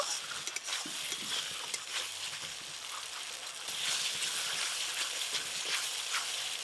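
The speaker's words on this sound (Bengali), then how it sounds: "এবার আমি খুব সাবধানে কলা পাতাগুলো এইভাবে মুড়ে নেব।" Banana leaves are carefully folded around bhetki fish fillets dressed with slit green chillies and mustard oil, giving a close, steady crinkling rustle with small crackles throughout and no talking.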